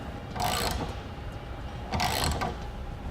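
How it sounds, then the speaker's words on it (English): Tightening bolts on a Thule TracRac SR sliding truck bed ladder rack: two short bursts of mechanical ratcheting, close and moderately loud, separated by a pause, with no talking. "And now we'll tighten down the front."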